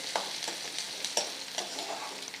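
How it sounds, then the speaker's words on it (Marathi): Chopped onion sautéing in a pan gives a steady close sizzle, broken by regular scraping taps as it is stirred, with no voices. "कांदा व्यवस्थित आपल्याला लालसर परतून घ्यायचा आहे"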